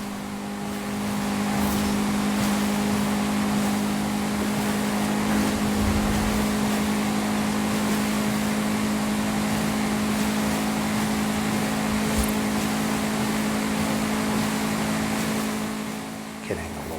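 A car in a racing video game drives off-road toward the finish, its engine holding a steady, loud drone with a constant pitch throughout, no clear revving changes.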